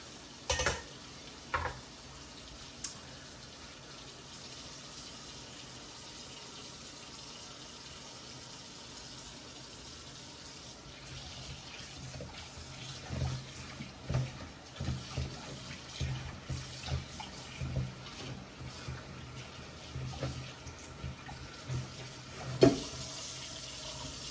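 A tap runs steadily while items are rinsed and stirred in water, with occasional soft knocks and splashes, close by.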